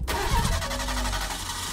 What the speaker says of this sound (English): turn your car on.